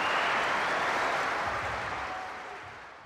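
Applause greets the committee chairman's remarks in a German radio play, a dense, steady wash of clapping that starts full and slowly fades over about three seconds, with no voices over it.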